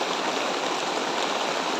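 Steady outdoor rainfall makes a dense, uniform wash of noise, continuous and fairly close, with no speech over it.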